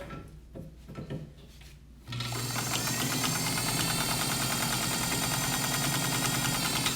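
A vintage Necchi BCJ sewing machine powers through thick webbing, its motor starting abruptly after a quieter stretch of rustling and then running loud and steady with a rapid mechanical clatter to the end.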